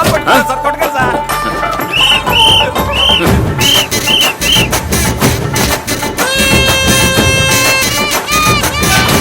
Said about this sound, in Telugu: వెళ్ళి విజిల్ పట్టరా.